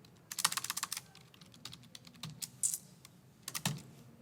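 Computer keyboard being typed on in bursts of quick, light key clicks separated by short pauses, quiet and close, no voices.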